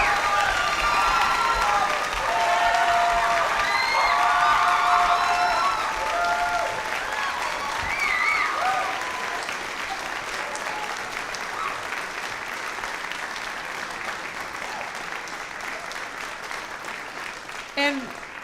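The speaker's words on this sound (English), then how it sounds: "let's give them one more round of applause" Audience applause fills the hall after a school spring concert by a wind ensemble, string orchestra and choir, loud and dense at first, then thinning and fading, with some voices and whoops mixed into the clapping.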